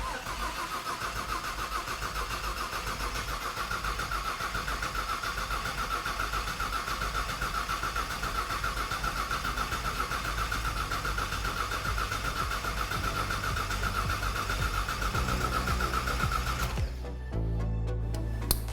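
A Ford Mustang Fox body with a new engine cranks steadily on the starter for a long stretch, loud and close, before the sound shifts near the end as it catches and settles into a rougher running tone.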